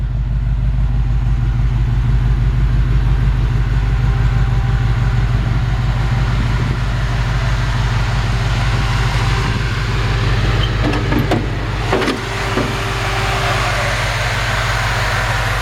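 A cold 1950 Ford F1 pickup truck engine idles steadily and loudly throughout, a low rumbling drone with a brief dip near the end.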